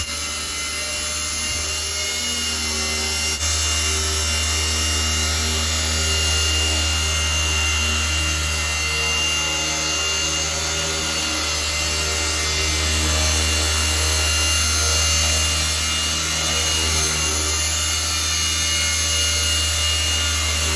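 An Eachine E130 budget RC helicopter hovers indoors, giving a steady, loud whirring drone of rotor and motor that holds constant and close throughout, with no voices.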